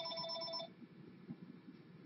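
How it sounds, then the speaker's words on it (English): A telephone rings with one electronic warbling trill that stops after about half a second, leaving only quiet room noise. "Keep calling until she answers."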